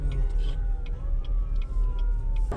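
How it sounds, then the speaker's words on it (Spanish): An ambulance siren at the scene of a three-car accident wails with a slowly gliding pitch over steady road rumble and passing traffic, moderately loud, while faint voices murmur nearby. "La ambulancia de Ana."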